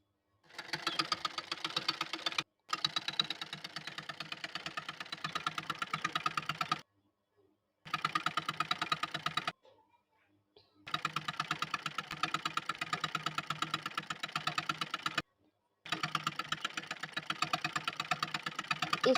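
A sewing machine stitches along the folded hem edge of a size 36 kurti in several rapid, close bursts separated by short pauses. No one speaks.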